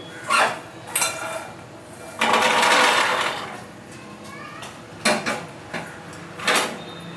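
Makhana (fox nuts) tipped from a pan onto a plate, with a few sharp clinks and clatters of metal and crockery and one longer rattling scrape.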